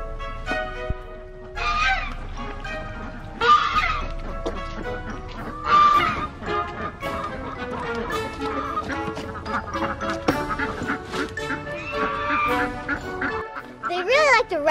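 Ducks and chickens being fed garden greens, with loud repeated honking and quacking calls in bursts from several birds nearby, while people talk over them.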